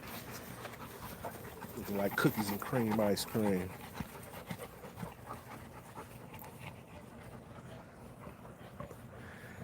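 A Presa Canario puppy pants in quick, fairly close bursts while a person talks over it, and the panting continues faintly underneath.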